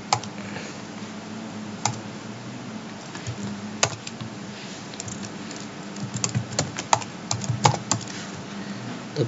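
A password being typed on a computer keyboard, with irregular soft keystrokes and occasional sharper clicks spread over several seconds against a faint background hum.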